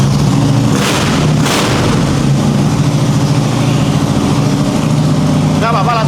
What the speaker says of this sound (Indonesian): Coba kita dengerin suara si Softail Deluxe.